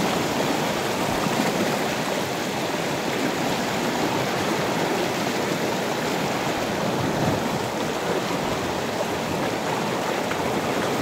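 River water rushes steadily over rocks at Panipyason River in Madalag, Aklan, a broad, continuous close-up wash of flowing current with no voices.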